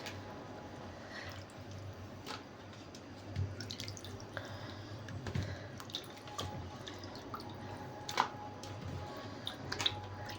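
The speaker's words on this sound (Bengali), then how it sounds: "দেখো চিকেনগুলোকে ধুয়ে নিচ্ছি।" Raw chicken pieces washed with running tap water at a home kitchen sink, a low, steady trickle broken by occasional drips and small splashes, fairly quiet and heard alone with no talking.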